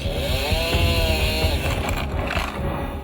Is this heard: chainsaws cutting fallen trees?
yes